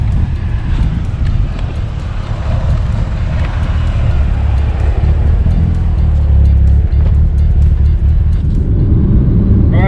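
Mitsubishi Evo 8 engine droning steadily while the car drives, a loud, constant low rumble with road and wind roar filling the cabin, with no speech.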